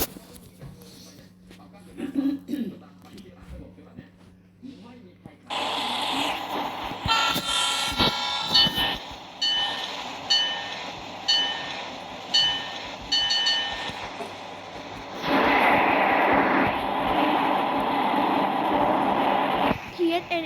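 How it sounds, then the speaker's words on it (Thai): A commuter train passes in a train simulator game, with a low rolling rumble and a series of short horn toots repeating over several seconds, ending in a louder, sustained stretch of train noise. "ตอนนี้ขบวนรถคอมมูเตอร์เทรนนะ"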